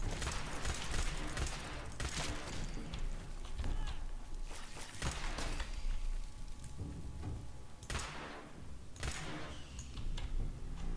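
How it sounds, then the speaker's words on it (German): Bursts of rapid gunfire crackle through a dense, noisy mix, with heavy rumbling and repeated shots, from a battle in the video game Fallout 4. "Schüsse."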